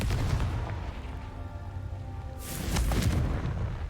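A Confringo spell explosion in the Hogwarts Legacy video game: a low rumbling rush builds to a single sharp, bright blast near the end, with a booming roar trailing after it.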